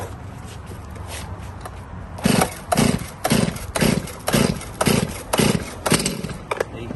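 A Stihl chainsaw engine sputters and fires in a series of about eight loud rhythmic bursts, each a short roar with a pause between, heard close after a quieter stretch.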